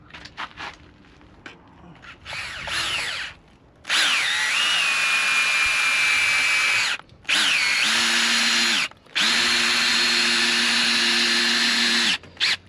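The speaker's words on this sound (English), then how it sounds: "So what I've done here is I've just drilled a tiny little pilot there." Power drill boring a tiny pilot hole while caravan awning legs are pinned, sounding as several close, loud whirring bursts separated by short pauses.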